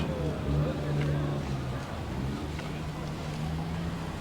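A BMW 2002 rolls past at a Cars & Coffee gathering in Griffith Park, Los Angeles, its engine a steady low drone close by, mixed with crowd chatter and outdoor background noise.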